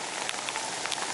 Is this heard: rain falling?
yes